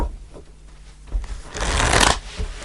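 Tarot cards being shuffled by hand, a soft riffling flutter building to a dense burst of cards slapping together, close and clear with no talking.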